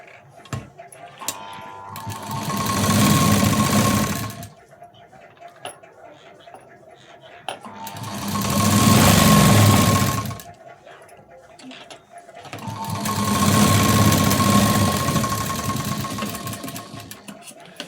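A sewing machine stitches a blouse seam in three loud, steady bursts of rapid whirring, each a few seconds long, separated by pauses filled with faint clicks and handling noise.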